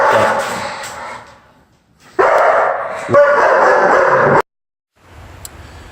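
A dog barks in loud, close bursts, a long harsh stretch, then another after a pause, with a brief softer sound near the end.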